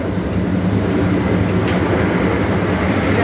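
Steady, loud rumble of a Vande Bharat express train running from Howrah to Rampurhat, heard from inside the coach, with continuous low wheel and track roar and faint higher rattles throughout.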